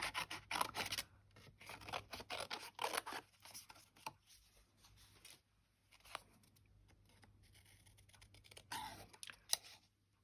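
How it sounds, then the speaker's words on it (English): Scissors snipping around a paper image during fussy cutting at a craft table, soft close crisp clicks in bursts, busiest at the start and again near the end, with quiet handling between. "Scissors."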